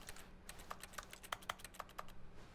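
Rapid keyboard typing clicks from spamming the use key in The Stanley Parable: Ultra Deluxe office, a quick irregular run of crisp, moderately quiet keystrokes with no talk.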